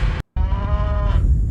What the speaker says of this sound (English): The moo is obviously not real